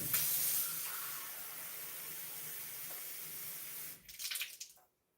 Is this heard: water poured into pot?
yes